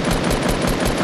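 Rapid automatic gunfire in a shooting video game, a dense, loud burst of shots in quick succession filling the whole moment, close and continuous with no talk.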